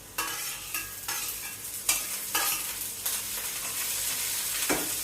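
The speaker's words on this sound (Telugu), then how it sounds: "సో గ్రీన్ చిల్లీస్ బాగా ఫ్రై అయిపోయిన తర్వాత ఇక్కడ మింట్ అలాగే కొరియాండర్," Green chillies fry in a pan with freshly added mint and coriander leaves, a steady sizzle broken by several sharp stirring scrapes and clatters, close and fairly loud, with no voices.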